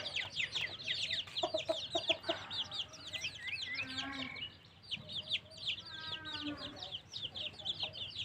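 Chickens cluck and chatter continuously, several birds close by, with higher chick peeps and some faint voices mixed in.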